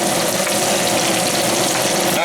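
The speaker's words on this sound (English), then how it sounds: "You hear the sizzling, so you know it's hot enough." Vegetables sizzle steadily in a hot pan for an Asian pork with oyster sauce dish, a loud continuous hiss and crackle close up without a break.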